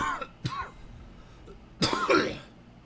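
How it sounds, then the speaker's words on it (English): A man coughs and clears his throat close to a microphone: a short burst, a second quick cough, then a louder, longer harsh cough near the end. "I probably should have muted the mic before I coughed up that lung"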